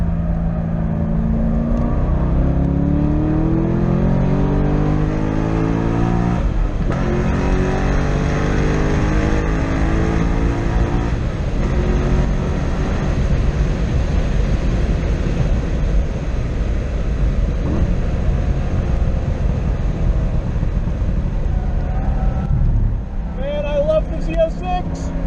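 A Chevrolet Corvette C6 Z06 engine runs on a race track, loud and close, rising and falling through revs and gear changes with a sustained roar throughout, under intermittent talk.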